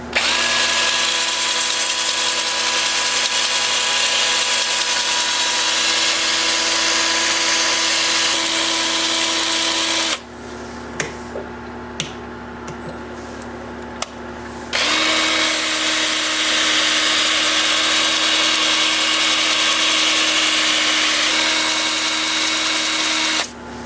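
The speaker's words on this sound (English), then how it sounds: "Lathe is spinning in reverse at 300 RPM." A steady motorized whine of a wood lathe spinning in reverse at 300 RPM while turning yew, loud and continuous, stopping briefly midway with a few clicks before starting up again.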